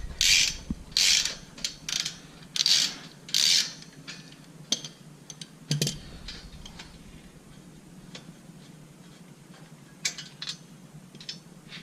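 A ratchet with a 12mm socket clicks in close, quick bursts while removing bolts on a Kubota L4060 tractor during engine oil and filter maintenance. A few scattered metallic taps and handling sounds follow.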